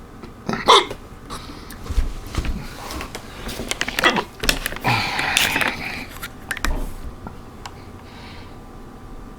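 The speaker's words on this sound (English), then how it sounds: "Once I start hiccuping, I don't stop." Sharp hiccups from a person who ate pork rinds too fast, several spasmodic bursts in under ten seconds, close and fairly loud, mixed with faint breathy noises and mouth sounds.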